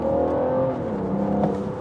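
A BMW 640d diesel engine with an aftermarket exhaust revs steadily and close by, a continuous deep, throaty drone with a slight swell near the end.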